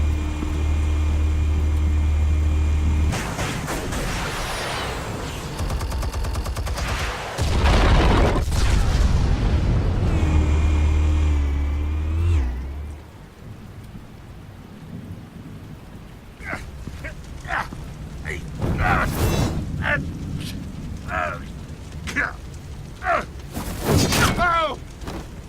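Explosives detonate in Batman: The Telltale Series, heavy booms with deep rumbling tails in two loud bursts, followed by quieter, scattered sharp game sounds and impacts.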